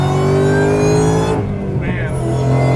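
A powerful supercharged VMP Ford Mustang GT engine roars loudly as the car accelerates hard merging onto a highway, with a brief gear-change dip before the roar picks up again.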